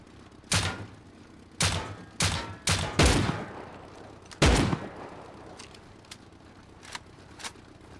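Separate gunshots from a high-recoil gun in the video game Rust, five or six sharp loud cracks fired in an uneven quick sequence, then a few fainter pops further off.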